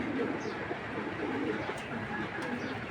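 Belgian-line pigeons kept in a loft cooing softly at a distance, low murmuring calls under a steady background hum, faint throughout.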